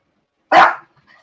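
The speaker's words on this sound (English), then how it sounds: "They bark at anything." A single short, sharp dog bark rings out close and loud against near silence, followed by a faint trailing sound.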